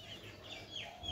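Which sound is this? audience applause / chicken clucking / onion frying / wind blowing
chicken clucking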